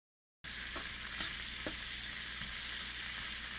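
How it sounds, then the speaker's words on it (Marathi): Cooked toor dal poured into hot frying masala for dal tadka, giving a loud, steady close sizzle that starts abruptly after a moment of silence and continues with faint stirring scrapes. "आता यामध्ये मी 1 वाटी तूर डाळ शिजवलेली टाकत आहे."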